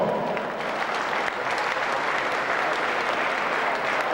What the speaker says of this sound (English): give our beautiful young ladies and our new queen for Miss South City 1999 year 2000 a big round of applause